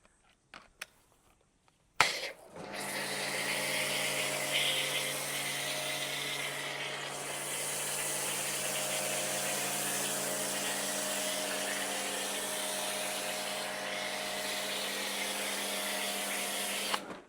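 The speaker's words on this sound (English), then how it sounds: "So let's get some foam on here." A foam sprayer or pressure washer hisses steadily with a constant mechanical hum as foam goes onto a car before washing, starting abruptly after a couple of brief clicks and running loud and unbroken to the end.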